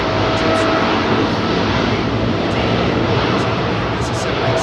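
A Boeing 787-900 jet climbs out on takeoff from Heathrow runway 27R, a loud, steady broadband engine roar filling the whole clip with little change in level.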